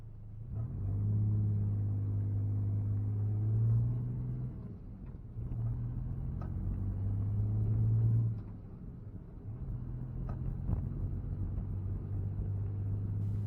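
A car fitted with a computer-controlled supercharged Kubota diesel engine drives through a town, giving a steady low rumble with a droning hum that swells and eases in passes, fairly close and without talk.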